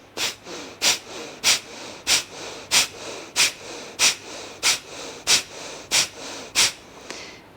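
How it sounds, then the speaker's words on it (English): Bellows breathing during a qigong practice: about a dozen forceful, evenly spaced breaths through the nose, each a short sharp whoosh, repeated at a steady brisk rhythm, close and clear with no talking. "And we just do a little bellows breathing."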